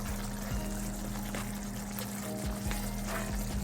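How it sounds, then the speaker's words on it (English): Water pours steadily into a pot of curry oxtail, a soft continuous trickle with a low background hum, fairly quiet and without talking. "I'm just gonna pour small amount of water"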